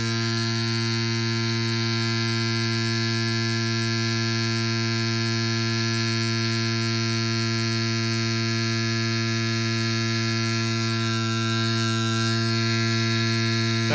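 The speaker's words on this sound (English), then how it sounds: "I can hear a difference on the pump." A Silca Elettrico electric pump inflates a motorcycle tire, giving a loud, steady motor hum and drone that runs unbroken close by for fourteen seconds with no talk.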